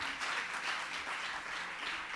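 Faint, steady clapping from a studio audience at the close of a televised news-presentation contest, a soft continuous patter heard at low level.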